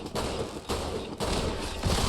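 A turret firing in Fallout: London, sharp bursts of gunfire repeating roughly every half second, loud and close, with little else heard.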